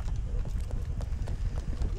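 Horse hooves clip-clop at a quick pace in Fallout 76, a steady stream of close, low thuds mixed with game noise and occasional voice.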